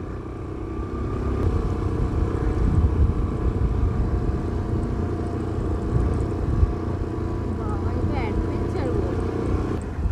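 Small-wheeled scooter riding over a dusty, bumpy, up-and-down rural road near Ghatshila, its steady engine drone and rumble running continuously and fairly loud, with a voice talking over it.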